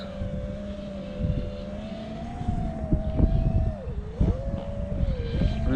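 A steady mechanical whine with a wavering pitch from a small drone's motors, rising and dipping as it flies into the wind, with wind buffeting throughout.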